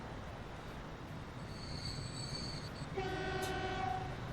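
Trains running in Transport Fever, a rail transport game: a steady rumble of rolling wagons under a continuous wash, with a high squeal partway through and a sustained horn-like tone sounding near the end.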